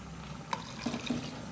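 Brief, quiet splashes of water being poured into a pot of Mangalorean sambar, a few short gurgling bursts against a soft background.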